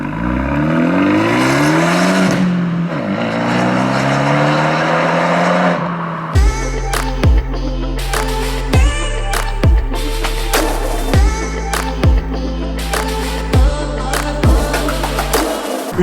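Abarth 124 Spider sports car engine under way, first a steady droning run, then loud rising revs with a rapid series of sharp gear changes, each shift breaking the tone and pulling back up, close and dominant with no talk.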